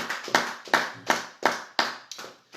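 A church congregation claps in worship, with about seven strong, evenly spaced claps and a few lighter ones, close and lively, with no talking.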